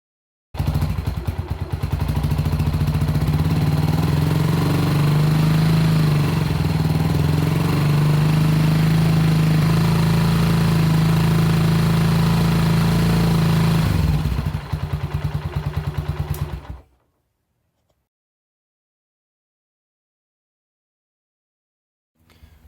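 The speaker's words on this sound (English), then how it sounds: "I won't be able to rev the bike up to full RPM without any engine load" A Honda CG125 motorcycle engine runs loud and close without load, its revs climbing and holding in a steady roar, then cutting off abruptly into silence.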